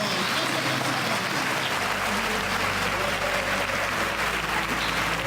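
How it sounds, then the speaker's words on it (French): Audience applause for an award winner, the first laureate being honoured at a ceremony: steady, dense clapping from a large crowd that fills the whole stretch at an even, sustained level. "Je vous demande de l'applaudir très fort."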